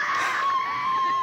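A crowd of fans screaming at Dimash's arrival in Düsseldorf, with one sustained high-pitched shriek rising over a dense, loud wall of cheering voices.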